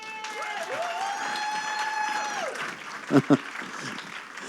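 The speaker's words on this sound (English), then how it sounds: "Let's just clap for her again." An audience applauds steadily at a book launch, a dense wash of clapping running beneath a voice, with a couple of sharper thumps near the end.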